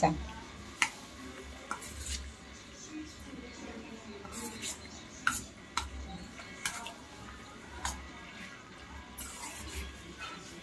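A spoon scrapes and clinks repeatedly in a bowl while chicken is mixed with marinade and a little fresh coriander, irregular sharp taps and stirring scrapes close by, with someone speaking softly underneath.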